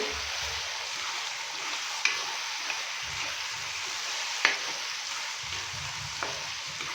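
Spices being stirred into bitter gourd and onion in a hot pan make a steady sizzling hiss, broken by a few sharp spoon taps against the pan, close and without talk.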